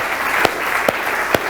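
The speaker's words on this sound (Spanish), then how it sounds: "Denle un aplauso a Dios." Steady applause from a church congregation during a sermon, continuous clapping at even loudness punctuated by three sharp louder claps or thumps at regular intervals.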